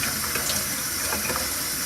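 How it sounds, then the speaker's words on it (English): Hot water runs steadily from a tap over a Baja's air filter during washing, a continuous close splashing gush with no talk. "I like to run it through a little hot water."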